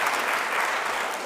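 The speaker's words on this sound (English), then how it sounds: "Go and give me a round of applause." Short round of applause from a book-festival audience, a thick, even patter of many hands clapping at moderate loudness with no one speaking.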